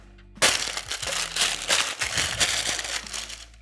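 Parchment paper is crumpled and mangled by hand while lining a cake pan, loud crackling and crinkling that starts abruptly and continues in dense bursts.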